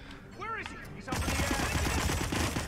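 Video game gunfire breaks out as a rapid, sustained volley of shots after a brief spoken exclamation, loud and continuous to the end.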